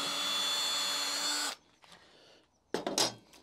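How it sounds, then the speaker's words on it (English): A power drill whines steadily at close range for about a second and a half while drilling leftover metal out of a hole, then stops, followed by a few short bursts of grinding. "all I've got to do is drill out that last little bit of metal"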